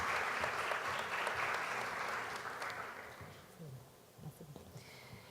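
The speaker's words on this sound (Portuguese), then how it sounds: "Por favor, uma salva de palmas." An auditorium audience at a journalism panel claps for a speaker called to the stage. The applause is full and sustained at first, then thins and fades out, with scattered claps and faint voices at the end.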